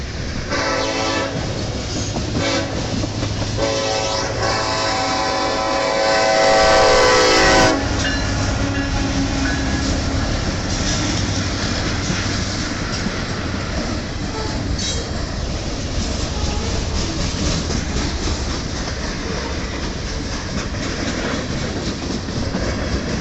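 A freight train led by an SD70M-2 locomotive rolls past in Battle Creek, Michigan, its horn blaring loudly in the opening seconds before a long, steady rumble of wheels and clacking cars continues.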